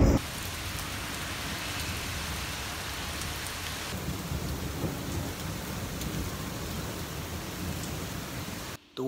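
Steady heavy rain pours outside with thunder rumbling low beneath it, a dense continuous wash of sound that holds evenly for about nine seconds before cutting off abruptly at the end.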